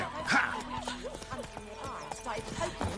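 Horse hooves clip-clopping in The Witcher game as Geralt rides through White Orchard, a steady rhythm of close hoofbeats with a brief whinny, while a voice speaks over the riding.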